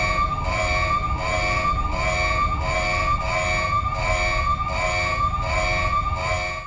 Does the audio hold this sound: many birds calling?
no